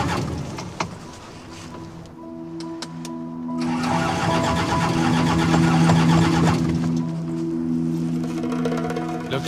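A military truck engine cranks repeatedly but fails to catch. The starter grinds close and loud in a long, rising whirring stretch, then drops back to a low steady hum, with no voices over it.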